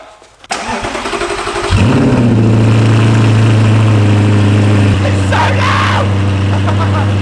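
Audi R8 engine cold-starting: a brief cranking whir, then a loud catch and bark that flares and settles into a steady, deep, loud idle, held close with no talking.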